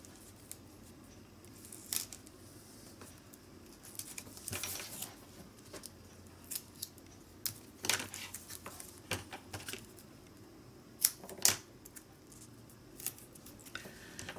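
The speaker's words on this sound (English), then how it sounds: "So I'm going to use this tape here." Tape pulled and pressed onto a handmade card in a paper-crafting session: faint, quiet scattered peels, crinkles and taps at irregular intervals over low room noise, with no talk.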